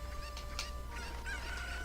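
Chickens (Cuccos) in the Zelda: Ocarina of Time video game give a quick run of faint, scattered clucks and squawks over a low steady hum, with no talking.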